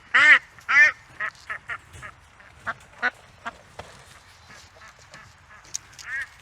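Drakes and hens being let out of a cage one by one give loud, close quacks and honking calls in short separate bursts, with quieter rustles and soft calls between them.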